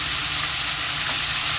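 Chicken pieces coated in egg and cornstarch fry in hot oil, giving a steady, dense sizzle that holds even throughout with no voices.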